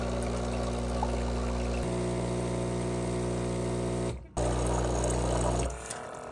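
A Sage Barista Touch Impress espresso machine runs its descaling cycle, giving a steady loud hum with water flow and a brief cut-out near the end, with no talk.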